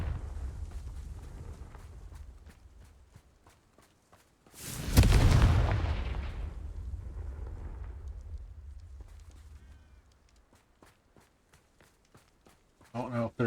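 Confringo fire spell in the Hogwarts Legacy video game, cast once as a sudden loud whooshing blast that fades off over several seconds, among soft footsteps, with a player speaking.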